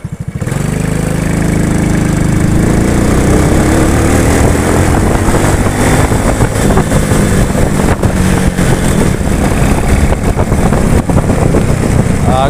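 A Honda Wave 100 motorcycle engine revs loud and near at speed, its busy low drone stumbling and catching in irregular stutters throughout, with no talking over it.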